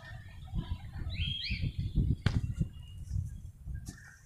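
A released pigeon takes off outdoors with a burst of soft, fluttering wingbeats close by, while faint bird chirps sound in the background.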